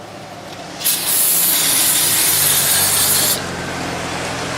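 Cloth rag scrubbing the gasket surface of a 9th-generation Toyota Corolla engine, a steady close rasping wipe lasting a few seconds before stopping, with no talking.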